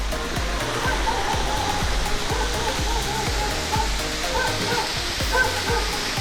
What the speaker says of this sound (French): la cascade en face